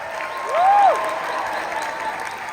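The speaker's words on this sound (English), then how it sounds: "Give them a round of applause." A large theater crowd at a packed film screening gives a round of applause, a soft, diffuse wash of clapping with a single rising-and-falling whistle cutting through near the start.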